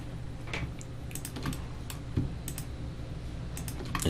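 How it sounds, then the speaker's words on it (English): Computer keyboard and mouse clicks while holding Shift to select edges in Blender, a scattering of light irregular taps and clicks, close but quiet, with no talk. "So I'll start holding down Shift and clicking these,"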